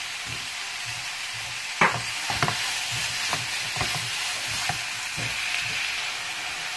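Minced meat seasoned with black pepper, cumin and salt is stirred in a frying pan, giving a continuous sizzle broken by repeated scraping strokes of the utensil. Nobody speaks.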